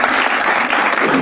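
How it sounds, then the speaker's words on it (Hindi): Loud, steady applause from a stand-up comedy audience fills the whole moment, dense clapping with no pauses and no voices over it. "एक बार जोरदार तालियां हो जाए"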